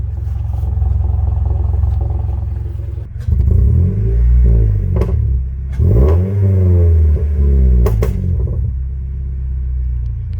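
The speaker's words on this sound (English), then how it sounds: "It's idling nice." A 2019-or-later Toyota Corolla 2.0 with the M20A engine, idling after an EGR delete. A deep steady rumble is heard close up, swelling into two brief revs before it settles back to idle.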